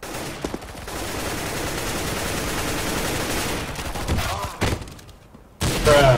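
Rapid automatic gunfire rattles in CS:GO, a long sustained burst of close, loud shots followed by a brief pause and a few more bursts near the end.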